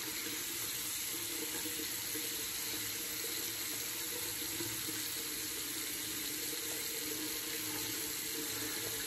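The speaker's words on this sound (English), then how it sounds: "All right, I'm gonna add a little bit more water to this." Water running steadily from a bathroom tap while shaving, a constant hissing splash with no pauses, close and moderately loud.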